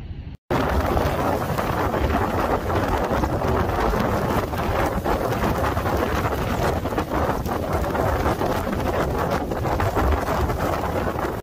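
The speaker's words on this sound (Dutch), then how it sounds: "Dit is de sterkste windstoot die ooit in juli is gemeten." Powerful gusts from a record-breaking July summer storm in the Netherlands roar continuously across the microphone, a dense, loud, unbroken rush of wind buffeting after a brief silent start.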